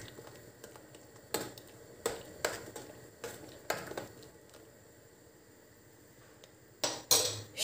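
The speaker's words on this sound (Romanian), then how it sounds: "Amestecăm." Spoon stirring nettle soup in a cooking pot, with a series of sharp metallic scrapes and clinks against the pot's sides in an irregular rhythm, close and fairly clear, pausing midway before a final cluster of knocks.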